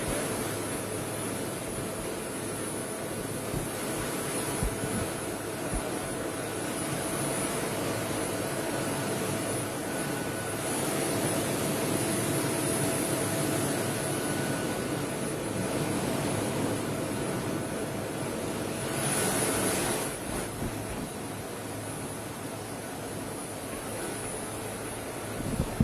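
A nearby aircraft engine runs in a steady, loud drone that fills the whole stretch, with a brief surge in intensity toward the end and faint voices in the background.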